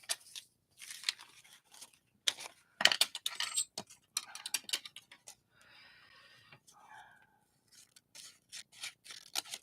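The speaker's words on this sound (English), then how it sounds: "Oh, I'm liking these little scissors." Small scissors snip paper in a quick series of crisp, close, fairly quiet cuts and crunches, with a soft rustle of paper partway through.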